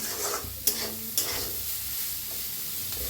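Ground dal being dry-roasted in a pan for pithla, a low sizzle with two sharp scraping clicks of a spatula early on, close and moderate in level.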